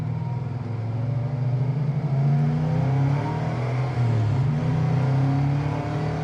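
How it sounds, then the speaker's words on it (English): A 1970 Camaro Z28 with its stock exhaust accelerates on the road, a steady loud engine drone rising through the gears with a continuous throaty rumble and no voices. "it's got that good sounding stock exhaust, you know, sound."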